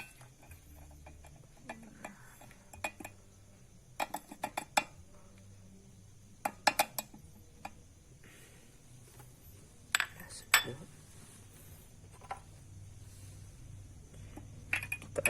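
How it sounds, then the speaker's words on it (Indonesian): A spoon clinks and scrapes against a glass in bursts of quick taps while stirring salt into water, with quiet pauses between rounds of stirring. "Kita aduk secara merata."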